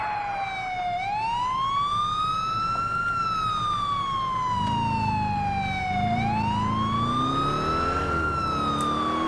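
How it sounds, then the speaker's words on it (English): A loud, continuous police siren from a video game wailing up and down in long sweeps, with a deep engine rumble joining partway through. "You can turn your sirens on and off, and pull people over and everything"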